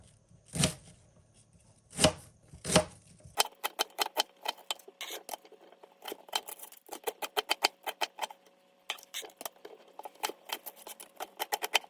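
Knife chopping rhubarb into half-centimetre pieces on a board, a few heavy cuts followed by a fast, steady run of crisp close taps without talk.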